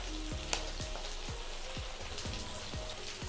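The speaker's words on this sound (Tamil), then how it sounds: "சீஸ் போட்டுட்டு ஒரு வாட்டி மட்டும் நல்லா மிக்ஸ் பண்ணி விட்டுக்கோங்க" Cheese gets stirred into gochujang alfredo pasta in a hot pan, a soft steady sizzle with a regular low thudding pulse of stirring beneath it and one sharp tick near the start.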